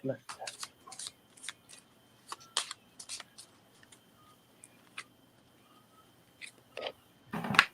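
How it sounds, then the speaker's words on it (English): Playing cards being shuffled in quick bursts of crisp flicking and riffling, close by, with a louder riffle at the end. "I love to hear the sound of the shuffle"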